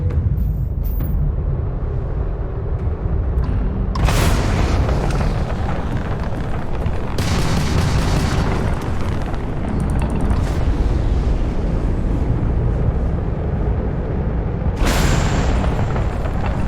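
Weapon fire and explosions from the video game Starfield form a loud, continuous roar of booming blasts, with bright bursts breaking out around 4, 7 and 15 seconds over a dense rumbling bed.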